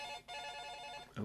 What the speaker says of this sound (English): That's my alarm telling me to get up.